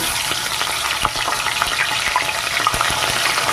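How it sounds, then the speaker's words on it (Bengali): Loud, steady crackling sizzle of fish frying in a smoking-hot wok, with scattered sharp pops and spits throughout. "কড়াইটা একদম ধোয়া ওঠা গরম হয়ে গেছে এবার আমি মাছগুলোকে দিয়ে দেবো"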